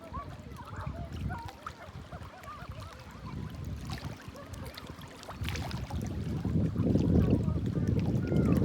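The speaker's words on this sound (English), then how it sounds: "Listening to that beautiful water." Water flows and laps with a soft, continuous wash, faint at first and swelling fuller toward the end, with no voices.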